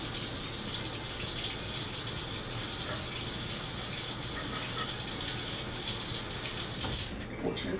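Tap water runs steadily from a faucet into a cup, a continuous close hiss and gush that holds evenly for several seconds before cutting off near the end.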